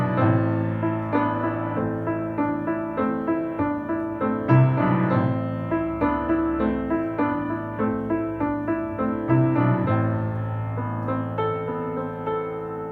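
Solo piano plays the first variation of a piece, a close, continuous passage of rolling chords and a singing melody at moderate volume, with a low bass swell midway.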